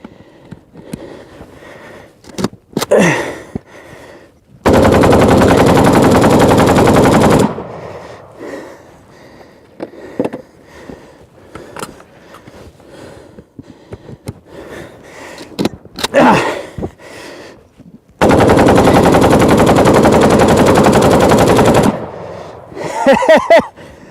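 Two long sustained bursts of Kalashnikov automatic rifle fire, each a few seconds of dense, loud continuous shots, separated by quieter stretches of rustling, handling noise and brief sharp sounds.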